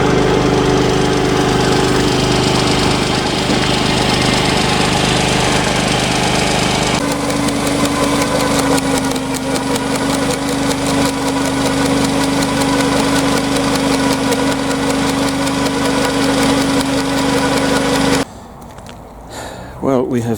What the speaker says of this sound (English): putting them through the shredder